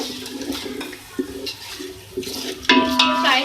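Whole spices — black cumin, cloves, black peppercorns and green cardamom — sizzle in hot oil with onions in a pot for chicken pulao, a steady watery crackle that grows louder near the end, with no talking.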